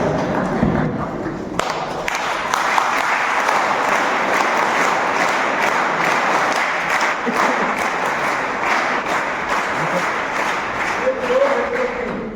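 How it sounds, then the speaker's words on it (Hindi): A large audience at a public gathering claps loudly and steadily, a dense, sustained wash of applause that carries on without a break from start to finish. "ताली कैसे बजती वो भी मैं सिखाता हूं।"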